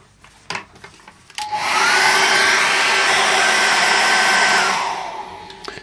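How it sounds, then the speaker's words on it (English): A hairdryer blows steadily on wet acrylic paint for several seconds with a loud, even whooshing roar, then starts to wind down, after a few light knocks at the start. "I'm going to dry that off quickly with a hairdryer."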